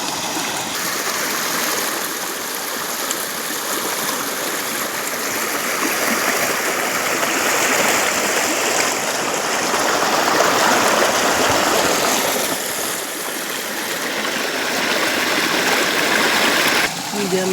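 Stream water rushes over rocks after a night of heavy rain at a fishing spot, a loud, continuous broadband wash with slight swells, and faint voices beneath it.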